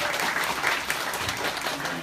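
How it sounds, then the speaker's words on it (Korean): A seated audience at a Korean youth career talk-concert claps steadily to welcome a guest, a dense, even wash of applause that holds throughout with no pause. "박수로 환영해 주시죠"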